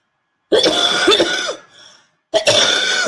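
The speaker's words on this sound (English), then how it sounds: "I'm still like coughing a lot, and my throat is bad." Two harsh bursts of coughing close to the mic, the first a rapid run of several coughs, then a brief pause before another fit.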